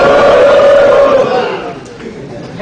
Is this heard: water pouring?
no